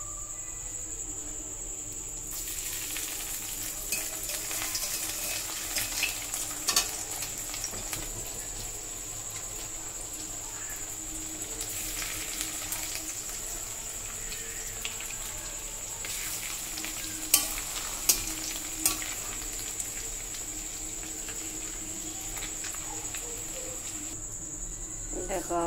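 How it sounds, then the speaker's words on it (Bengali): Fish cutlets frying in hot oil, a steady close crackling sizzle with scattered pops throughout, along with a persistent high-pitched insect-like whine. "আমি এগুলোকে তেলে দেবো।"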